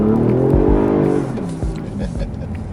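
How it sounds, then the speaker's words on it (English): A 2019 Toyota Avalon V6 sedan accelerates hard, with an engine note augmented through the speakers. It revs loudly and climbs in pitch close by, then eases into a shift and keeps pulling. Speech seems to run underneath. "augmented sounds from the engine bay"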